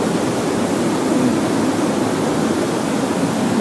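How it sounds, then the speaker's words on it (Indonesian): A high waterfall with a strong flow roars steadily nearby, a dense, continuous rush of falling water with no pauses or voices. "Airnya cukup deras."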